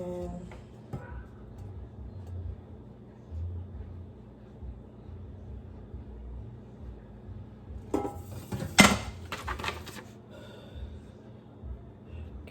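An Instant Pot's metal inner cooking pot is handled during unboxing, giving a cluster of clinks and clanks around the middle after a quiet stretch of low room noise, with one sharp metallic knock standing out.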